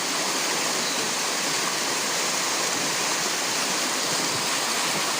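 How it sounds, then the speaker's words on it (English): Fresh water pours from Bury Lake into a freshwater lake, a loud, steady broadband rush like a stream or small waterfall, unbroken throughout with no voices. "This water is coming from the Bury Lake and flowing into the freshwater lake."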